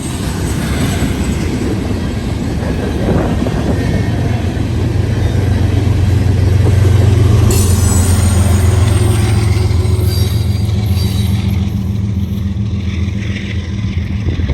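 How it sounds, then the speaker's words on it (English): A long freight train rolls steadily past at close range, its heavy low rumble and wheel noise constant throughout, ending with a rear ES44DC DPU locomotive on the tail of a roughly 50-car train. "he still managed to have a rear DPU on the end of the train, an ES44 DC"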